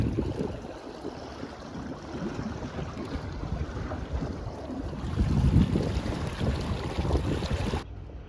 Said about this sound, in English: We're just travelling back to Gypsy on the dinghy